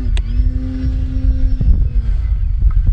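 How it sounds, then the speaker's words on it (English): A tiny RC biplane's propeller engine buzzes steadily nearby, its sustained drone holding a pitch and then shifting as the 3D aerobatic model maneuvers, with a few brief sharper blips along the way. "Going from flying jets to flying a tiny little biplane is an interesting experience."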